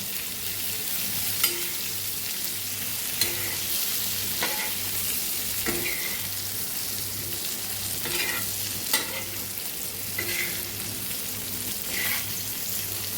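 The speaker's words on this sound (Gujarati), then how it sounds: "બધા ભીંડાને ઉપર નીચે કરી લેવાના છે આવી રીતે ફેરવી લેવાના" Sliced okra frying in oil in an iron pan sizzles continuously up close while a spatula turns it, scraping and tapping against the pan at fairly regular intervals, with no voices.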